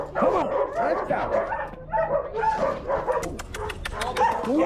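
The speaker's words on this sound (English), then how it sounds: "Greyhounds are the coolest dogs" Several greyhounds at a racing kennel bark, yip and whine excitedly, overlapping calls close by, with a person's voice mixed in among the dogs.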